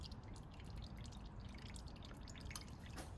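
Engine oil draining from a 2016 BMW 218d F45 during an oil and filter change: faint, steady dripping and trickling throughout, ending on one sharp knock.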